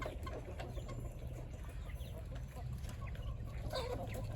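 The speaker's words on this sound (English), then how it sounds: "Look, my chickens are all grown up." Grown chickens cluck and murmur quietly in a yard at feeding time, faint scattered calls over a low background rumble.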